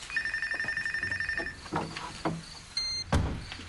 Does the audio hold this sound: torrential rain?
no